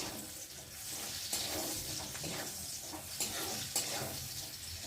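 Onions frying in a pan, a steady dense sizzle and crackle throughout, close and continuous, with a few faint stirring scrapes and no talking.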